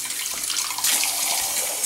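Warm tap water runs in a continuous splashing rush while dreadlocks are rinsed, steady and close with no talking.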